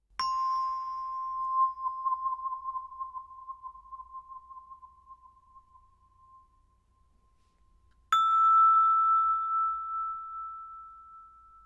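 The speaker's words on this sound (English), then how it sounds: "this only works up on this particular set of orchestra bells" Orchestra bells struck near the mouth to add a resonance effect: a bright metallic bar tone rings out and slowly fades with a gentle wavering, then a second, slightly higher bar is struck and sustains, loud and close with no talking.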